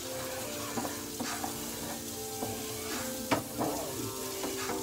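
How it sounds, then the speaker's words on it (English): Onions frying in a pan to caramelize for smothered liver and onions, a steady close sizzle with occasional stirring clinks and scrapes throughout, no talking. "we're going to drop our onions in here to caramelize those"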